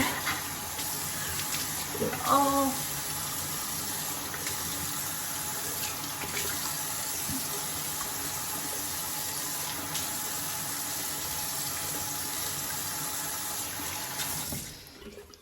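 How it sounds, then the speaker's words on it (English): Lukewarm water runs from a bathroom tap for face washing, a steady close hiss and splash into the sink that continues evenly before cutting off near the end, with a brief exclamation early on. "So first we gotta wet the face. Lukewarm water."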